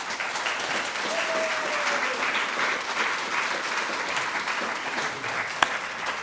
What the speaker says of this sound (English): let's give our choir a round of applause as well.